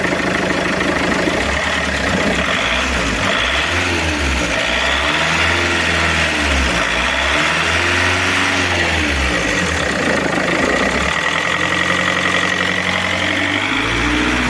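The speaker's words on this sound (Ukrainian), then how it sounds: "А ну дай газу трохи." A Peugeot 407 2.0 HDI diesel engine idles and then revs several times in a row, rising and falling pitch, close and loud, after timing belt work.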